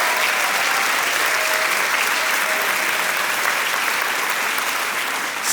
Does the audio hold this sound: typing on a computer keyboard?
no